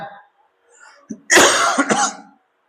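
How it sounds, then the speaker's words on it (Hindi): A single harsh cough close to the microphone, preceded by a brief murmur, then quiet. "थोड़ी खांसी हो रहा है"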